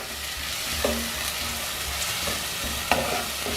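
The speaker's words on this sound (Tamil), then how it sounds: "நல்லா பச்சை வாசனை போகிற வரைக்கும் வதக்கணுங்க." Masala sizzles and fries steadily in a pan while being stirred for a spicy butter beans gravy, with a continuous crackling hiss and a few soft scraping stirs, close and without talk.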